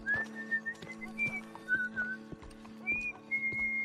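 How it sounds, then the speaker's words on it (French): A man whistles the Marseillaise in Red Dead Redemption II, clear melodic phrases carried over a low steady hum with horse hooves clip-clopping beneath. "Enfin, il siffle la Marseillaise."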